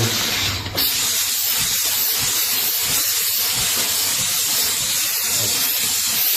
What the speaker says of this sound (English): Stop talking when the steam's coming out.